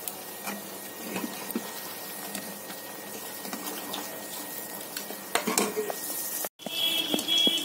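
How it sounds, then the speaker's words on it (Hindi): Urad dal fritters for dahi bade frying in hot oil over a low flame, a soft continuous bubbling sizzle with occasional clinks of a utensil and a brief cut before louder crackling. "बाकी के भी हम ऐसे फ्राई करके निकाल लेंगे लो फ्लेम पे करेंगे"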